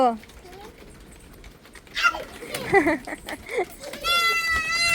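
Goats bleating in a rural Karnataka setting, a few short calls mixed with people talking nearby, ending in a clearer, sustained bleat.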